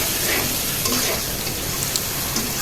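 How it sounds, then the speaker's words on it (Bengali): Onions fry in a pan for mung dal khichuri, giving a steady, close broadband sizzle with faint stirring scrapes throughout, no voices. "এখন এটা লাল লাল করে ভেজে নিতে হবে"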